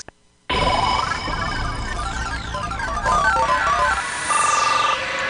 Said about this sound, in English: Phone lines are ringing already.